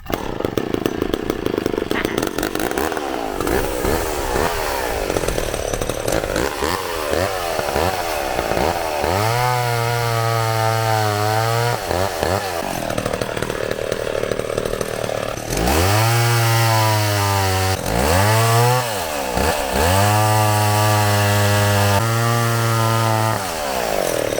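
An old chainsaw runs close and loud throughout, idling roughly before being revved up in several rising, falling surges of high-pitched engine whine, with no talk.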